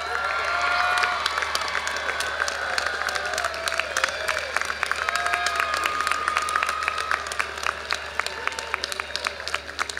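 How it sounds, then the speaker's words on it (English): A large crowd at a Chico State University commencement gives sustained, dense applause with scattered cheers and shouts mixed in, steady and loud for the full ten seconds. "Graduates, please join me in a great round of applause"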